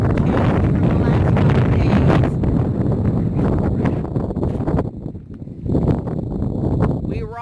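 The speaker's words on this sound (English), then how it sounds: "The wind's blowing like crazy." Strong wind in a windstorm at Quartzsite roars and buffets loudly against the microphone and surroundings, with gusts rising and easing throughout the clip and no voices heard.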